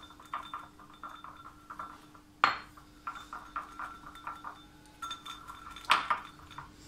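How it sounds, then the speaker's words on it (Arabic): Egg yolks being whisked in a bowl for an autumn dessert, a steady run of light clinking strokes with two sharper knocks against the bowl's rim, close up and alone. "غادي نطرب شوية أصفر ديال البيض"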